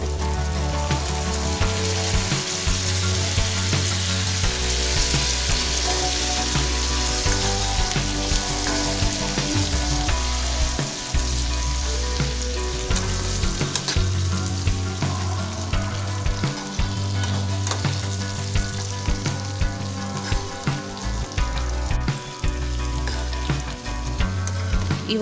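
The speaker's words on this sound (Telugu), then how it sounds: "ఉల్లిపాయ ముక్కలు ఫ్రై అయిన తర్వాత వంకాయ ముక్కలు వేసుకోవాలి" Eggplant pieces and onion slices fry in an oil-filled pan for a Telugu brinjal curry, a steady dense sizzle running throughout with occasional stirring scrapes, close and loud with no talking.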